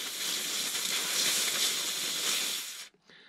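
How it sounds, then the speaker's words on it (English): A steady burst of hissing steam is directed at a dented foam model airplane to push the dent back out, loud and continuous for nearly three seconds before cutting off abruptly. "So get the steam rolling in there."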